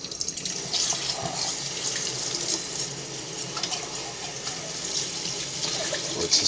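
Cold water runs steadily from a tap into a sink, a continuous close splashing hiss with no talk over it.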